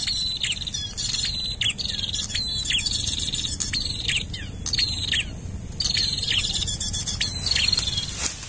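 Small birds, sogon, give rapid high twittering chirps in repeated bursts over a steady rustling outdoor background, fairly close and without any talk.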